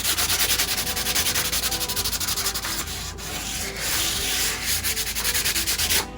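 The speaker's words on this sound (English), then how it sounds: "with the same sandpaper, I went through and I sanded the entire antler, focusing mainly on the paddle part of the antler, inside and on the outside" Sandpaper scrubs steadily over a shed moose antler's paddle, a loud, continuous close-up rasp with rhythmic back-and-forth strokes and no voices.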